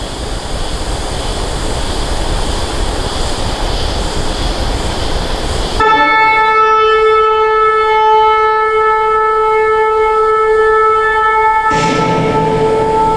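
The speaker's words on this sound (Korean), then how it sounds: "이건 전쟁 때 부르는 나팔 소리입니다." A horn is blown as a war trumpet call during a church sermon: after a breathy rushing noise comes one long, loud, steady brassy blast held for about six seconds before it breaks off.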